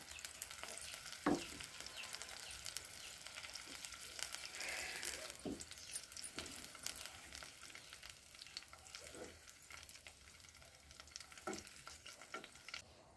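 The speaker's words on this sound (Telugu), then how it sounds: "పచ్చిమిర్చి వేగిపోయినాయి, తీసేద్దాం" Green chillies fry in a pan for a bottle gourd chutney, giving a faint, steady sizzle broken by a few soft stirring clicks and scrapes, with no talking.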